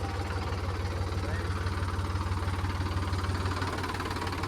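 A tractor engine runs with the hand accelerator slightly raised, a loud, steady low throb with a rapid pulsing beat that continues without a break under faint background noise.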